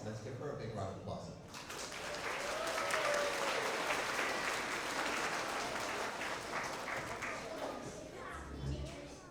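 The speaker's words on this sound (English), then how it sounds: "Let's give her a big round of applause." Applause from students and parents at an elementary school award assembly, a fairly faint, steady patter of clapping that swells midway and fades, with some murmuring voices mixed in.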